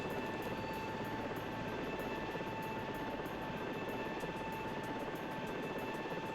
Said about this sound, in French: le passage de l'hélicoptère lui a fait peur.